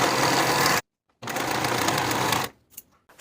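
A sewing machine finishes the edges of a denim coin pocket in two fast, close whirring runs with a short pause between them, then stops with a few faint clicks.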